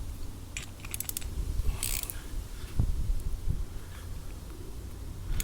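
A canister-type fuel filter on a diesel engine is twisted tight by hand, giving scattered scraping, gritty friction and a few sharp clicks with no speech.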